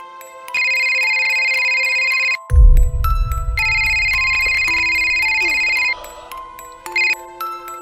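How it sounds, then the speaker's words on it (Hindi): An electronic phone ringtone trills in repeated bursts, with a low thump and some background noise partway through; no talking. "चिंटू जासूस को एक ऐसा फोन आया जो उसकी जिंदगी बदल देगा।"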